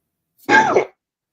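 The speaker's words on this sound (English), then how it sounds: "Why do you cough?" A single short, throaty cough or throat clear from a person, close and loud, lasting under half a second in otherwise quiet surroundings.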